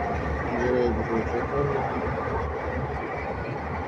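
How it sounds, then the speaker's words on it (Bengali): A train speeds across the new Jamuna rail bridge, making a loud, continuous rumble and rattling clatter that fills the whole stretch at close range, with a voice faintly mixed in. "এবার দেখেন ট্রেন আরও একটি স্পিড বাড়িয়ে দিচ্ছে"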